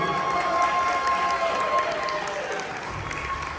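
Audience at a cosplay contest applauds and cheers loudly in a dense, continuous wash of clapping and crowd noise that tapers slightly toward the end.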